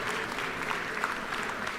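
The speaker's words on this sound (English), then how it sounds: "I would like for y'all in the house to give them a big round of applause" Steady audience applause fills a legislative chamber, many hands clapping continuously at an even level with no voices standing out.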